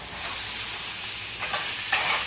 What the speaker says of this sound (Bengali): এখনো আলু ভাজছে